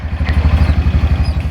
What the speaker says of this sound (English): This is our range vehicle.